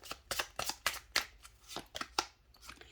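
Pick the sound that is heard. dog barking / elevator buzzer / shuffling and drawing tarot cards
shuffling and drawing tarot cards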